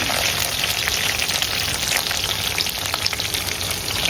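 Chopped ginger and garlic go into hot oil in a pan with curry leaves, frying in a dense, continuous crackling sizzle at a steady level.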